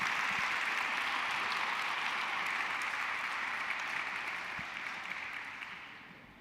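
A panel-discussion audience breaks into steady, dense applause. It holds evenly, then thins and fades toward the end.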